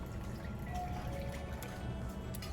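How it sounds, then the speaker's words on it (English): Holiday punch pours from a pitcher in a soft, steady liquid trickle, faint and close, with no talk. "So we're gonna stir it and then pour."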